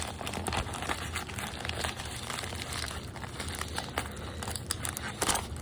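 Plastic packaging of a toy figure is crinkled, twisted and tugged at close range in a continuous rustling stream with a few sharper crackles, and no one speaks.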